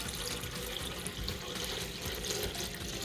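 Water poured steadily into a container for a beet and carrot punch, a continuous close splashing stream with no talk over it.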